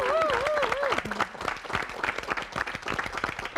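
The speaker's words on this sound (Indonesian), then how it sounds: "Tepuk tangan dulu dong." At a televised Indonesian comedy show, audience applause follows a live band's short musical sting. The clapping is busy and moderately loud, and crowd voices sound beneath it.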